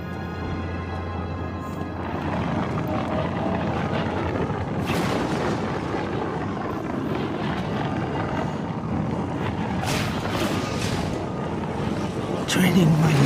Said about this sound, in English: The Aeon engine. Vader has activated it.